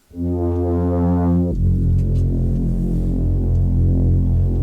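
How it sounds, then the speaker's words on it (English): A sustained synthesizer drone made in Bitwig, a buzzy harmonic tone that shifts to a lower, thicker, more gritty distorted note and holds steadily. "This is a really pretty boring but simple synth."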